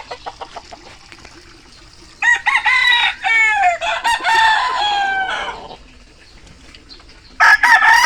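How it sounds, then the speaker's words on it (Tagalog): Several roosters crow loudly in overlapping calls in a backyard in Bicol, with clucking and quieter clicks between, one more crow starting at the end. "Ang dami pala manok oh."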